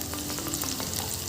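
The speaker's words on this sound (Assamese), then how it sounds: "পিঁয়াজ অলপ অলপ সিজিছে, অলপ ৰঙচুৱা কৰিবলৈ দিম।" Onions fry steadily in a pan for a pork with colocasia stem dish, a continuous close hiss of sizzling with faint stirring scrapes throughout.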